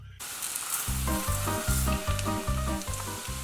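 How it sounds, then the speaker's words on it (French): White Cévennes onion and arborio rice sizzling in rapeseed oil in a frying pan, a broad steady hiss overlaid by a rhythmic pulsing hum that starts after a brief quiet moment. "j'émince un oignon blanc des Cévennes, puis je le fais blondir à l'huile de colza dans une poêle"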